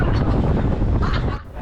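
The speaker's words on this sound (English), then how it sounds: "It's windy and a bit chilly." Strong wind buffeting the microphone on a rocking boat at sea off Siquijor in the Philippines, a loud continuous low rumble with gusty swells and a brief dip near the end.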